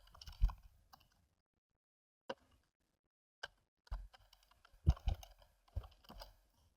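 Typing on a computer keyboard, heard as a few sparse, quiet clusters of key clicks with gaps of silence between them, no voices.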